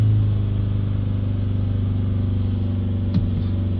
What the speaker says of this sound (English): Hold the revs back up a little bit, they've dropped a bit.